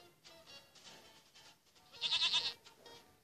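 A goat in a goat rampage video game bleats in short repeated cries, with one louder, sharper bleat near the end, fairly close and with no talk over it.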